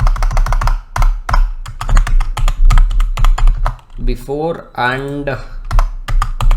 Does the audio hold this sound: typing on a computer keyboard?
yes